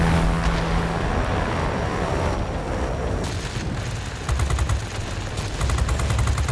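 Heavy large-calibre Russian aircraft cannon fire in World of Warplanes booms in rapid bursts over a constant engine drone, with sharp repeated shots clustering toward the end, loud and close.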